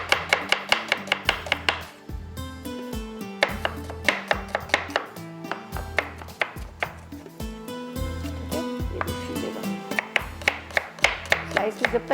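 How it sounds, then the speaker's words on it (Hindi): A knife slices an onion on a cutting board in quick, crisp rhythmic chops, running in fast bursts with short pauses, close and clear, over faint background music. "तो यहाँ पर हम एक प्याज को स्लाइस में कट करते हैं।"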